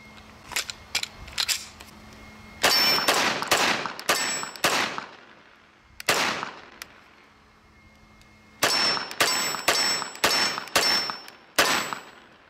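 Walther PPQ .45 ACP pistol shots striking steel targets, fired in quick bursts of loud, sharp reports, each followed by a bright metallic ring, with short pauses between strings.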